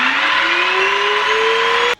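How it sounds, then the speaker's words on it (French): A TintonLife vacuum cleaner's brush head spins at a steady whirring pitch that rises slightly as it runs, loud and close, then cuts off abruptly after about two seconds. "vous avez entendu la brosse tourner aussi"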